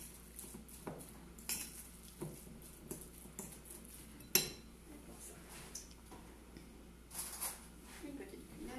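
Teaspoon clinking against a dish while filling deviled eggs, scattered light metallic taps and scrapes with one sharper clink, close and quiet, under intermittent talk.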